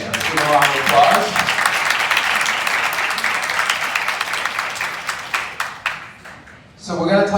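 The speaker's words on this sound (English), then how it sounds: "Give a round of applause." An audience gives a round of applause at a Disrupting Poverty Conference panel on welfare policy and benefit cliffs. Dense clapping fills several seconds, then fades, and a voice starts speaking at the end.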